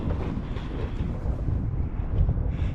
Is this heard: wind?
yes